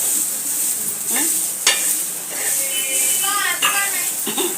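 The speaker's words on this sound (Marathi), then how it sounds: "आता मी लसूण टाकते ह्याच्यात बघा ते पण भाजून घ्यायचे आपल्याला" Garlic sizzles steadily in a hot pan while a bitter gourd dish is being cooked, with a few stirring scrapes and someone talking over the continuous hiss.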